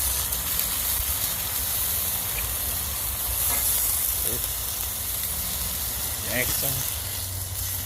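Teriyaki chicken and vegetables sizzle steadily on a Blackstone hibachi griddle, a dense close frying hiss running throughout, with brief voices speaking over it.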